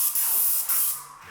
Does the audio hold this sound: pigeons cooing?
no